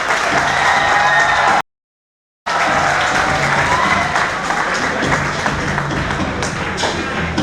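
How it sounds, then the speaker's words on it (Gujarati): An audience at a felicitation ceremony applauds loudly and densely, a steady wash of many hands clapping that cuts out briefly near the start before resuming and continuing strongly to the end. "યુવાનો અને નરહરિભાઈ બંનેને તાળીઓથી વધાવો મિત્રો"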